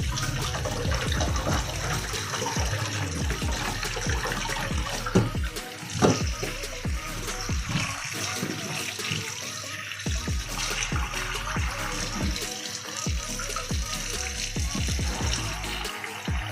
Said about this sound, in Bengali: এবার ঠান্ডা জল দিয়ে ধুয়ে নিচ্ছি